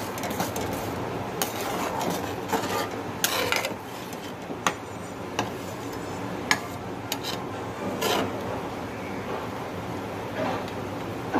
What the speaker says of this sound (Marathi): कस्तुरी मेथी टाकली की ह्याला व्यवस्थित असं हलवून घ्यायचं।